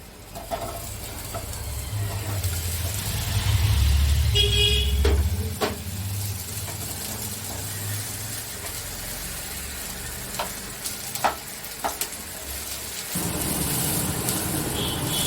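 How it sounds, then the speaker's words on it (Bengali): Onions dropped into hot oil and fried until reddish-brown for an egg curry, a loud hiss with low rumbling beneath, a few sharp clicks, then a renewed surge of sizzling near the end. "প্রথমে আমি পেঁয়াজটাকে লাল লাল করে ভেজে নেব পেঁয়াজগুলোকে তেলের মধ্যে দিয়ে দিচ্ছি"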